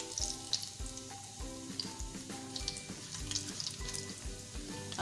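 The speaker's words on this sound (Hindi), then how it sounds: "हम लहसुन को अच्छे से फ्राई करेंगे।" Garlic fries in a pan for chicken Singapore fried rice, hissing and sizzling steadily up close while soft background music plays underneath.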